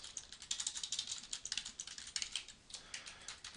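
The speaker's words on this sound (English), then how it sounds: "I'm just going to type in" Rapid, steady clatter of typing on a computer keyboard while entering text, with dense key clicks running continuously and close up, no voices.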